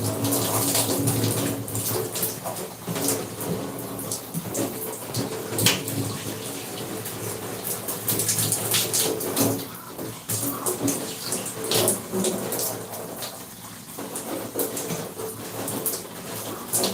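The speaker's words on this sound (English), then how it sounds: "I do like when the water is running down." Tap water runs steadily during a natural hair wash, a close, continuous rushing and splashing that shifts slightly as it pours over hair, with no talking.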